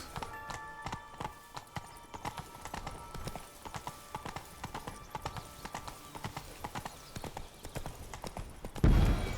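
Horse hooves clip-clopping in The Witcher III: a steady, fairly quiet trot of hoofbeats continues throughout, with faint voices briefly in the background and a muffled thump at the end.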